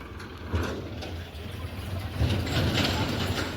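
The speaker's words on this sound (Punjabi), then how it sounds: "ਤੇ ਟਰੈਕਟਰ ਮੋੜ ਕੇ ਹੁਣ ਬਾਈ ਇੱਧਰ ਹੀ ਲੈ ਕੇ ਜਾਣਗੇ" A tractor engine rumbles steadily at low pitch as the machine is turned around on a farm, with a couple of slightly louder surges and faint voices in the background.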